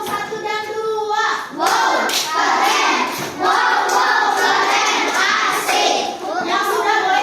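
Classroom children clapping together for two student groups, bursts of loud, close hand claps in rhythmic runs broken by short pauses, with young voices mixed in.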